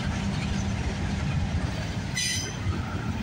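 CPKC freight train 132 rolls past at night in a steady, loud wheel-and-rail rumble, with a brief high squeal partway through.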